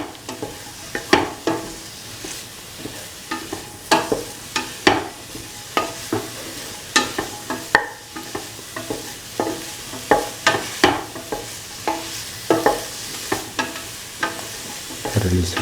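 Cauliflower rice being stirred and sautéed with garam masala spices in a pan, a spoon scraping in a steady run of sharp, close clinks and scrapes over a soft sizzle.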